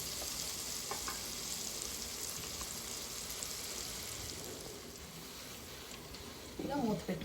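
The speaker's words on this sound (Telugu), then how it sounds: "ఇప్పుడు ఇది ఒక 5 మినిట్స్ మీల్ మేకర్ కొంచెం బాగా ఫ్రై అవ్వాలి." Meal maker chunks frying in a covered pan, a faint steady sizzle throughout, with a short burst of voice at the very end.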